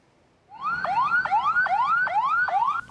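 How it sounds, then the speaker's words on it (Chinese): An ambulance siren wails at the scene of a suicide bombing at a wedding in Dera Ismail Khan, northwest Pakistan, loud and close, with rising-and-falling yelps repeating about every half second for over two seconds after a quiet start. "救护车赶紧进入事发现场"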